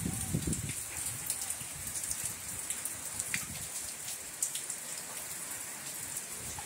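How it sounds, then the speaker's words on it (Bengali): Steady rain falls on a surface in a continuous, even patter with scattered sharper drops, moderately loud and close, with no voices. "বৃষ্টি বৃষ্টি বৃষ্টি"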